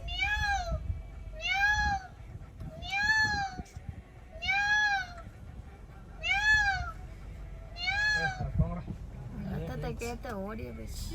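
A cat meows six times in a steady sequence of drawn-out, rising-falling cries, close and clear, with people's voices mixing in toward the end.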